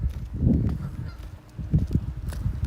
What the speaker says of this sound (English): Geese are hissing at me.